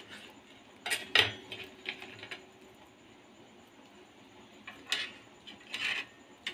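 Knife slicing through a freshly made vegetable rava toast for serving, giving a few quiet scattered cuts and taps, with sharper clicks around the start and end against a soft background.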